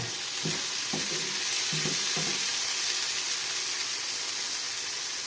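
Eggplant sautéing in a pan: constant close sizzling fills the clip, broken early by a few quick scraping stirs of a spatula, then settling into an even fry with no voices.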